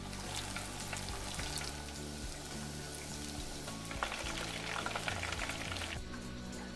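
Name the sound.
Japanese tempura deep frying in oil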